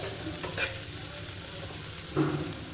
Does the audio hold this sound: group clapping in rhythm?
no